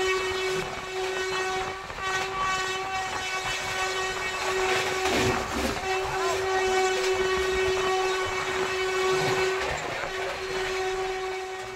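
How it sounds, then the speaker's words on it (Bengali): A Howrah–New Delhi Duronto Express runs steadily throughout, a continuous rumble with a sustained horn-like tone and faint clickety-clack. No one talks, and the noise stays even and close from start to end. "ফাইনালি আমাদের যাত্রা শুরু হলো হাওড়া নিউ দিল্লি দুরন্ত এক্সপ্রেসে চেপে"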